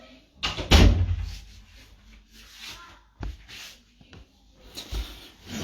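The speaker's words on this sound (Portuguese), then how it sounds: "deixa eu só soltar um gato aqui que tá arrancando minha porta aqui" A house door opened and shut to let a cat out: a loud thump near the start, then softer knocks and shuffling, and a final bump, all close by in a quiet room.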